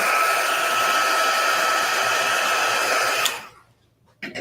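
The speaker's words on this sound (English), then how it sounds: "I'm just going to blow it quickly with the heat gun." A craft heat gun blows a steady, loud airy roar to dry paint on a card, running continuously for about three seconds before cutting off into near silence, then a brief noise at the end.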